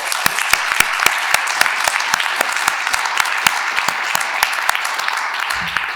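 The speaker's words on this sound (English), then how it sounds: "I'd just like to invite everybody to have another round of applause for Fran and Jonathan" A lecture-hall audience at an EICC Live and David Hume Institute conversation event gives a sustained round of applause, dense sharp hand claps filling the room steadily for several seconds without voices.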